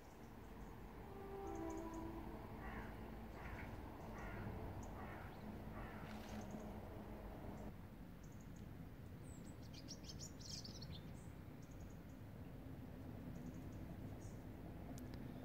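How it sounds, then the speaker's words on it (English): Scattered birdsong chirps and tweets sound at a distance in a suburban garden over a low rumbling background, with the drone of a train passing through a junction underneath. "And the birds are singing."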